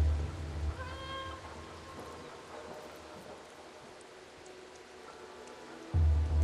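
A cat meows once in the video game Stray, clear and close, over soft rain-like ambience that swells again near the end.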